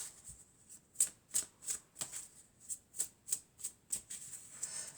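Oracle cards for a love-themed reading being shuffled by hand, a steady run of about a dozen crisp riffling bursts roughly every third of a second, close and clear with no talking.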